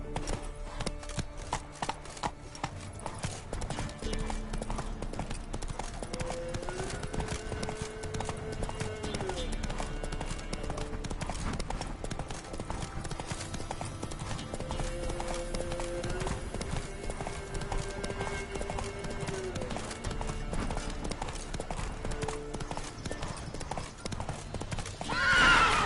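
Horse hooves galloping in the Witcher 3 video game, a continuous rhythmic clip-clop that runs the whole way over soft game music and background sound.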